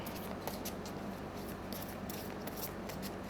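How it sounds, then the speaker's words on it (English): Tarot cards are drawn one by one from a deck, with soft papery slides and light flicks over a steady low hum, close and fairly quiet, with no talking. "So now let me take out 3 cards here"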